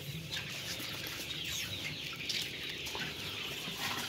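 Two-month-old laying hens on a village egg farm clucking softly as a flock, a continuous low murmur of clucks and rustling with no one speaking.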